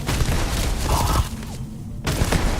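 A grenade goes off in the video game Starfield: a loud booming blast with rumbling debris, a brief lull, then another heavy surge of noise.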